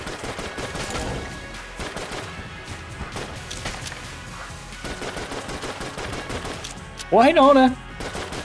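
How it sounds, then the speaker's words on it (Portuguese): In the video game Enter the Gungeon, rapid bursts of gunfire crackle through much of the scene, followed near the end by a loud, brief distorted cry, with a voice talking briefly. "Eu descarreguei dois pentes no filho da puta."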